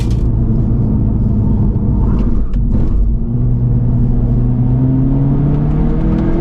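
A Lynk & Co 03+ with a progressive engine on a Chinese racetrack, its close, loud engine droning and climbing steadily in pitch as it revs, with a brief dip partway through.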